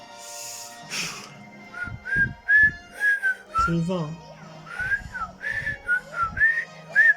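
A person whistles a string of short, rising melodic notes in bursts, close and fairly loud, with a few brief spoken words and breathy sounds between them, indoors during Super Mario Galaxy 2 play.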